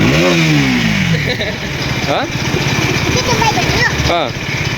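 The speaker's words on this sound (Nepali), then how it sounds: "केटिएम बाइक हो" A KTM motorcycle engine revs and putters nearby, rising and falling in pitch, with people talking over it.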